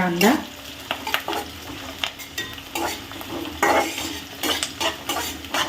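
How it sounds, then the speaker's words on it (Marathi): Sliced onion sizzles and is stirred in hot oil with cloves, peppercorns and cardamom for matki pulao, with steady frying crackle and repeated scrapes of a spoon against the pan. "आता आपण हे छान परतवून घेऊया कांदा चांगला मस्त परतवून घ्यायचा आहे"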